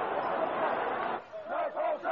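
Poll tax demonstrators riot near Nelson's Column in London in March 1990: a dense, close crowd roar gives way to rhythmic bursts of shouted chanting and yelling voices.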